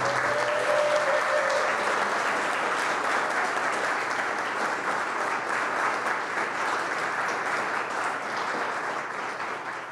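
Sustained audience applause for panelists at a democracy summit session on ranked choice voting, dense and steady for about ten seconds before slightly tapering, with a faint low hum beneath.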